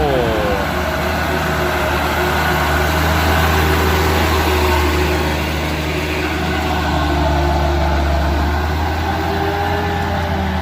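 A SANY 215C-10 excavator engine runs at a steady idle throughout, a loud, close diesel drone with constant low rumble and harmonic hum, with no voices over it.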